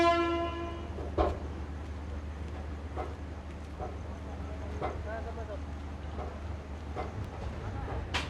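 The Yesvantpur–Latur Express pulls out of Yelahanka Junction with a low steady rumble, a horn blast at the start, and faint rhythmic clicks of wheels over rail joints, with voices murmuring underneath.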